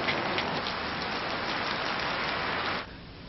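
Steady morning rain pours down as a dense, even hiss of drops on surfaces, continuous and fairly loud before easing abruptly near the end.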